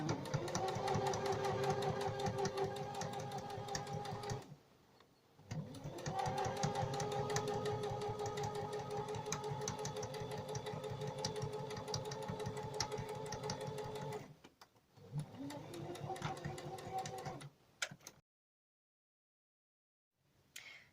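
A sewing machine stitching a straight seam on a fabric face mask, rapid rhythmic clatter running in long bursts, briefly pausing around five seconds and again near fifteen, then stopping into silence before a short restart.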